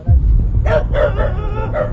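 Dogs bark and yip in a quick series of sharp calls, fairly close, over a low rumbling background.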